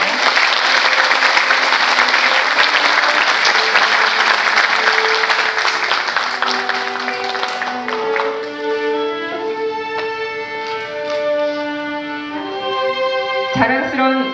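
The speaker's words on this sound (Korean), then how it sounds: "네, 박수로 환영해 주시겠습니다." Audience applause fills a university anniversary ceremony as an award recipient is welcomed to the stage; steady dense clapping, loud and sustained, gradually thinning while tonal background music rises underneath.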